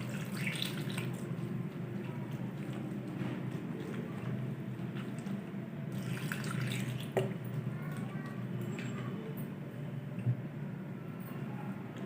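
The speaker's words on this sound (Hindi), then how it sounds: "अब मैं इसमें पानी डालकर अच्छे से धो लूँगी।" Grated potatoes being washed with water for potato chapli kabab, soft splashing, dripping and squishing sounds, quiet and close, with a few small knocks.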